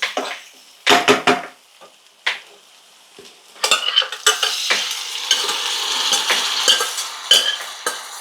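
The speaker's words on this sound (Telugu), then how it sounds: "ఇప్పుడు దీన్ని మళ్ళీ ఇలాగే ఫ్రై చేసుకొని ఇప్పుడు మటన్ వేసేసుకుందాం" Mutton being fried Andhra style in a pan, with a few sharp spatula scrapes and knocks at first, then a continuous close sizzle broken by repeated stirring clatters.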